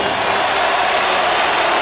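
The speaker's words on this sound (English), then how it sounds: "how about a round of applause for a young challenger here tonight" A large boxing arena crowd applauding and cheering challenger Bert Cooper after his bout with Evander Holyfield, a loud, dense, continuous roar of clapping.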